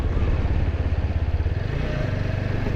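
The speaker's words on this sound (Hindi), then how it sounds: "देखो बाइक का आवाज़ स्मूथ आ रहा है" A motorcycle engine in fourth gear pulls steadily and smoothly under throttle, a close, continuous low mechanical drone with a slight rise in pitch and no talk.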